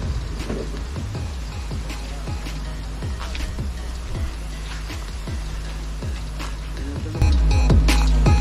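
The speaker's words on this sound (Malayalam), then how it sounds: "മല കയറി ടോപ്പിലെത്തിയപ്പോൾ തന്നെയാണ് മഴ ഇത്." Steady rain falls on the summit of Kodikuthimala after a mountain climb, a dense constant patter close by with scattered drops, growing louder near the end.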